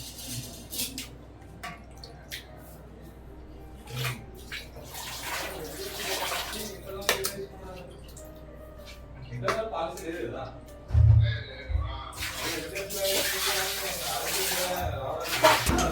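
Mutton being washed with water in a home kitchen, with splashing, dripping and pouring sounds in uneven bursts, louder near the end, while someone talks over much of it.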